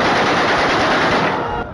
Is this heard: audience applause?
no